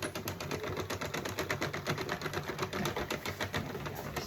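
A circular knitting machine runs steadily while knitting a pink yarn scrunchie, its rapid, even mechanical clatter repeating in a tight rhythm throughout, close and moderately loud with no voices.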